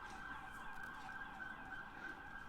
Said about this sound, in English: the sirens have to pass through